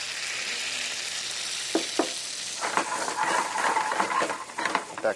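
Bananas sizzle in a pan with splashed Chardonnay and heavy cream, a soft, steady hiss that brightens and bubbles more busily in the second half, with a few utensil taps and no voices.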